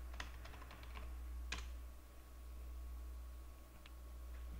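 A few scattered, faint keystrokes tapped on a computer keyboard to enter a password, light clicks spaced irregularly over a constant low hum.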